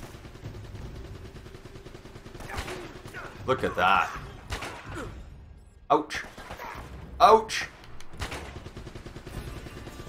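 Hand cannon .44 pistol shots in the Uncharted video game: a few sharp, separate blasts spaced seconds apart over a low game soundscape, with a player talking between and around them.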